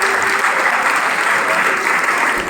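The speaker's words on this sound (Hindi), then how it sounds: "ताली बजाओ लोग।" An audience applauds at a student felicitation ceremony held at a coaching centre in Chanpat, a dense, even wash of clapping that stays loud and constant for the whole stretch.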